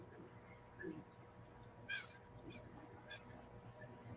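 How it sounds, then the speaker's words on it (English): A crow cawing outdoors in the rain, several separate harsh caws spaced a second or so apart, faint and distant over steady background noise. "hear a crow outside."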